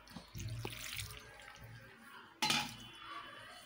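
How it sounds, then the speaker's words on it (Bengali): Water is poured little by little into pitha batter for patishapta in a bowl, giving soft splashes and trickles with a sharper pour midway, alongside faint clinks of utensils, close and quiet. "অল্প অল্প পানি দিয়ে মিশিয়ে নিচ্ছি।"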